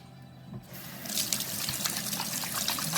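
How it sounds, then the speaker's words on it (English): Water runs from a tap for hand washing. A faint hiss swells into a steady, close splashing stream that continues to the end. "I want to wash my hands."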